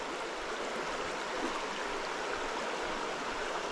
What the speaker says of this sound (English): Even though that water's moving really fast here on the top